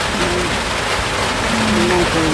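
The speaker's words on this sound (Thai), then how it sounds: "มันฝนตกนะ" Steady rain falls outdoors with a constant broadband hiss, while voices talk over it throughout.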